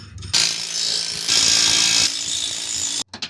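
A power tool tightens U-bolts on an enclosed trailer's new leaf-spring suspension, roaring loudly and close in a continuous burst of about three seconds before cutting off into brief rattles.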